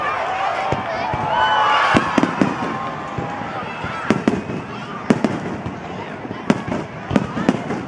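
Fireworks bursting over Saigon during a night celebration, with a crackling wash followed by a string of sharp, distant booms, while people talk nearby.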